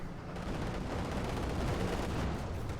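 Gunfire in Company of Heroes 2, a World War II real-time strategy game, with steady, dense battle noise of shots and explosions running continuously at moderate level with no gaps.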